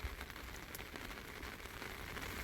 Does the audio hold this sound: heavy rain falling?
yes